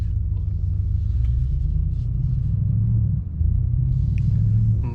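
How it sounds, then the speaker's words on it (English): The V8 of a 2021 Mercedes E63S AMG sedan rumbles steadily at idle with the sport exhaust open, a deep constant drone heard from nearby with a slight dip and swell midway through. "you have more noise from the engine and exhaust"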